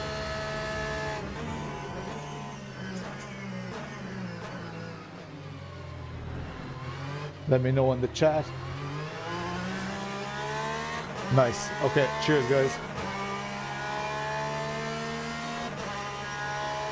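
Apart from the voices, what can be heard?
race car engine in the video game Le Mans Ultimate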